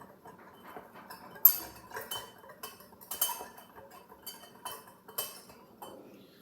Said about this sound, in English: Let me get this good and mixed up.